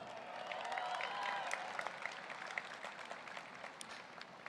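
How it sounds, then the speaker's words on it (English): Audience applause fills a university commencement ceremony, a soft, dense patter of clapping that holds steady and then thins slightly, heard at a distance without talk. "How about another cheer for our soloist, Lucretia Monde?"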